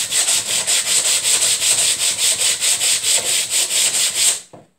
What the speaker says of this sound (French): nous allons la poncer légèrement